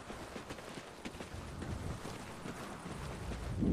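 Wind blowing in the Call of Duty Ghosts campaign, a steady broad whooshing rush with soft gusty swells, continuous and fairly quiet, with no voices over it.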